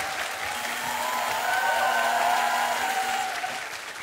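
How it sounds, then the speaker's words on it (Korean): A studio audience at a Korean comedy show claps steadily, a full, even wash of applause that swells slightly and then begins to taper. "큰 박수 부탁드리겠습니다"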